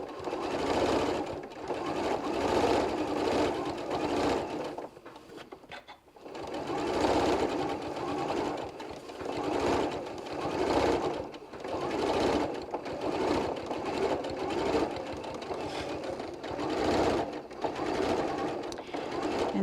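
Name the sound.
sewing machine stitching adult bib clothing protector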